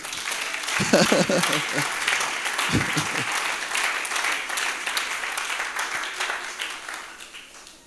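A church congregation applauds and cheers in praise of God, a broad wash of clapping that swells early, holds steady with scattered voices and claps, then thins toward the end.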